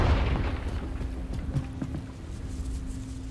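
A Confringo explosion spell in Hogwarts Legacy goes off with a deep boom at the start, then decays into a low rumble with a few faint thuds and a steady hum.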